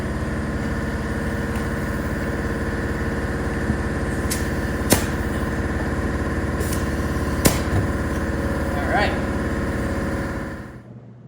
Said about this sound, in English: now that the air compressor is finished cycling